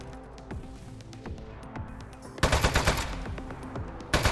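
Shooting the desk gun in the Aperture Desk Job video game: scattered single shots at first, then a loud rapid burst of automatic fire, a pause, and another burst at the very end.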